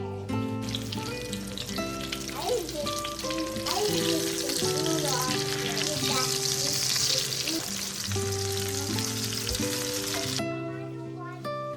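Noodles fry in olive oil in a home kitchen pan while being stirred, a steady sizzle running throughout with scraping stir noises and a voice talking over it.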